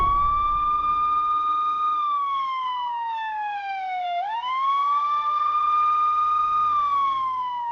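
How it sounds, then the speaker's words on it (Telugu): A police siren wails loudly and continuously, its pitch sweeping slowly down and back up again in a long, unbroken cycle that fills the whole stretch. "Police siren వినబడుతుందేంటి?"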